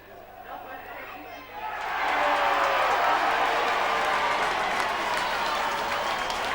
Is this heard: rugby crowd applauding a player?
yes